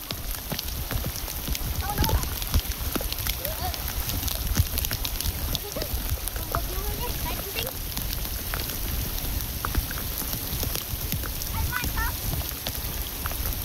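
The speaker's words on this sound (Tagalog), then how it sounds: "magpa-ulan." Steady rain falls on surfaces in a continuous close patter with scattered sharper drops, a few faint voices murmuring under the downpour.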